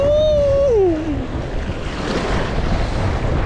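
Steady rushing waves driven by strong wind across a fish pond, a broad roar of water and gusts close to the microphone, with a brief whistling tone at the start.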